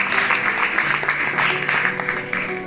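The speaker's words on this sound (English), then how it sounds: "I want you to applaud those young intellectuals who have been doing so." An audience at a university matriculation ceremony for English department students applauds steadily, a dense wash of clapping from many hands in a hall, fairly loud and sustained throughout.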